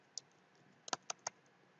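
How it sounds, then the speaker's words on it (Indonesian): Keystrokes on a laptop or PC keyboard while typing a folder name in Windows 11: one lone click, then a quick run of three sharp taps close to the mic, alone in a quiet room. "Maka di sini saya ketikkan"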